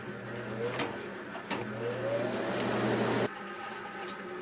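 A Kaldi home coffee roaster's blower runs with a steady whooshing hum, close and moderately loud, shifting tone slightly partway through.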